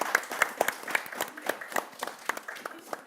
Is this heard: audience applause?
yes